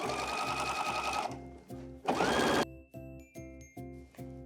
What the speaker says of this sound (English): now we're gonna do the edge stitch. Make sure you're back stitching or fixing, and just work your way all the way down the waistband.